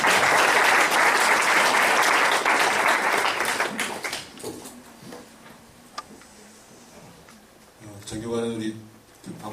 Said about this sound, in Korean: 김대옥 목사님 오셔서 박수로 한번 주시죠